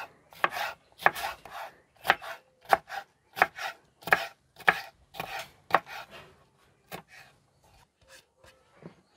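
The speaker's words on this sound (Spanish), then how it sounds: "Se lo voy a picar el chile morrón." A knife chops red bell pepper on a cutting board in sharp, near thumps. The chops come in quick bursts of several strokes, separated by short pauses, with no talking.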